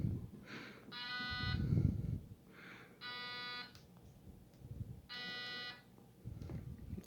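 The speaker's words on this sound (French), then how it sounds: "avec mon détecteur de champ, je vais être capable de voir que le pad, ça fonctionne." A field detector beeps in three separate bursts of steady, harmonic-rich tones while held over a used Rhumart pulsed therapy pad, with a dull low handling rumble and faint background noise between the beeps.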